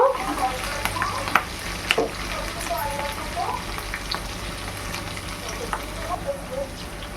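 Onions fry lightly in a pan for paneer manchurian with a moderate crackling sizzle, broken by sharp utensil clinks and scrapes against the pan, close and fairly loud, no one speaking.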